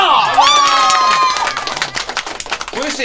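An audience lets out a loud rising cheer and whoop, then breaks into sharp, close scattered clapping that thins out toward the end.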